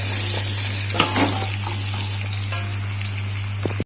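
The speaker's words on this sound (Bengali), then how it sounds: "এবার আমি লাউ চাল কুমড়োটা দিয়ে দেবো।" Chopped ash gourd goes into hot oil tempered with cumin and fresh chillies, setting off a loud, steady sizzle with bursts of crackling as pieces hit the pan, over a constant low hum, then cutting off abruptly.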